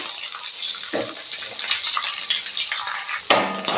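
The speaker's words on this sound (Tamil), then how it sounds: "இதை நல்லா வதக்கி விட்டுறலாங்க வெங்காயம் ஓரளவுக்கு நல்லா வதங்கி வரட்டும்" Onions and green chillies sizzle steadily in hot oil in a kadai, a close, continuous frying hiss broken by a couple of brief spoon clatters from stirring.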